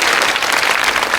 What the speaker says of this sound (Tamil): கைத்தட்டுங்க ஒரு அடி.